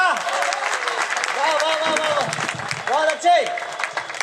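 Audience applause at a Hindi kavi sammelan poetry recital, steady clapping filling the hall throughout, with a voice speaking and calling out over it.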